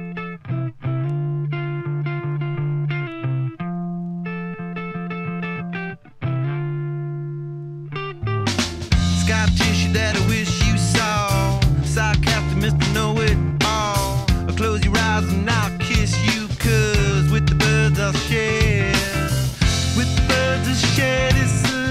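Remastered recording of a rock song playing back: sustained distorted guitar chords at first, then full band with drums and vocals kicking in loudly and continuing.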